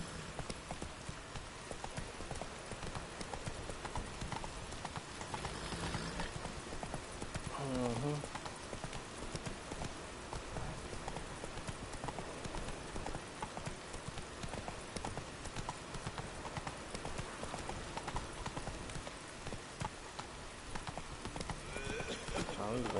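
In The Witcher, the horse Roach clip-clops along steadily, with continuous rhythmic hooves that stay moderately close throughout. Faint game ambience sits under the hooves, and someone talks over parts of it.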